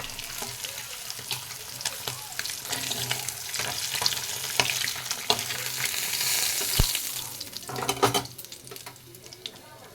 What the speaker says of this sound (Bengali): সব মাছগুলো ভাজা হয়ে গেছে, এবার তুলে নেব।